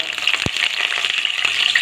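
Tempering of chana dal, cumin, asafoetida, curry leaves and a dried red chilli frying in hot oil for a tomato egg curry, giving a steady close sizzling hiss with a soft thump near the start and no talking.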